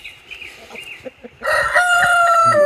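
A rooster crows loudly and close among a flock of about 120 special-breed farm chickens, following a few softer clucks and rustles.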